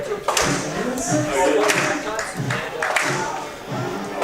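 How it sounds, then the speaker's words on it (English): Crowd clapping in the stands at a college baseball game, Piedmont versus Maryville, as a batter steps up: scattered hand claps and taps under a play-by-play announcer talking over them. "And everyone starts to clap it up"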